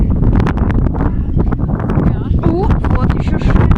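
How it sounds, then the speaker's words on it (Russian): Strong wind in Kyiv's Dniprovskyi district on 27 March buffets the microphone with a loud, continuous low roar and gusty rumbling throughout. "сильный ветер."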